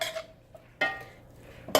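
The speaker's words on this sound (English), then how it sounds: "I'm going to saute it a little bit from the oil and the garlic." Garlic in oil being sauteed in a pan while cooking curry chicken, mostly heard as a few sharp metallic clinks and scrapes of a utensil against the pan, close and spaced apart, with no talk.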